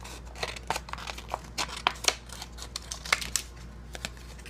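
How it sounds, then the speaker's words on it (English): Scissors snip a pattern out of a plastic beverage cup with the bottom cut off, giving a close series of sharp, irregular crisp clicks and crinkles in a quiet room. "I've cut the bottom off this beverage cup and I'm just going to cut out the pattern that I want to use."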